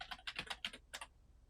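A computer keyboard is typed on for a short search entry: a quick, close burst of about eight crisp key clicks in under a second, then silence.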